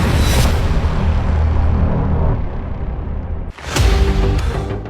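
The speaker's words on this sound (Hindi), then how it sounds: "मिसाइल टैंक की तरफ बहुत तेजी से बढ़ती है और इजराइल के मरकावा में बहुत बड़ा धमाका होता है।" Anti-tank missile striking an Israeli Merkava tank on the Lebanon border: a loud, sustained roaring blast fills the opening seconds, fades briefly, then a second sharp, heavy boom erupts and rumbles on.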